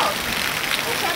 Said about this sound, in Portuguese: O temporal de chuva.